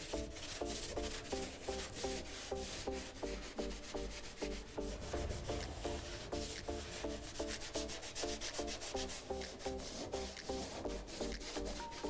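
Scotch-Brite pad scrubbing a rusty car hood, a continuous, quiet rhythmic rasping of back-and-forth strokes running steadily throughout without speech.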